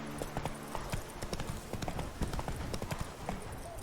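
Hooves of the horse Roach galloping in The Witcher 3 video game, a quick steady clip-clop rhythm that is close and continuous.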